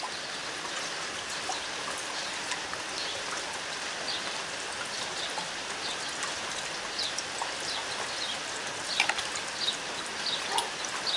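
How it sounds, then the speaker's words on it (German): Steady rain falls outdoors where ducklings are kept, making a continuous even patter on surfaces with light dripping. A few small chirp-like sounds rise near the end. "Und jetzt, wo ich dachte, es hört auf zu regnen, regnet es stärker wieder."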